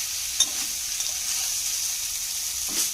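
A cooked-down banana stem and small shrimp curry fries in a pan with a soft, continuous sizzle, broken by a couple of brief stirring clinks near the start and end.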